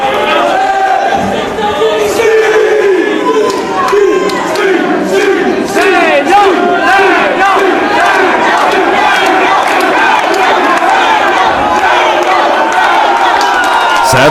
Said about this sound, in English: Crowd calling for a moonsault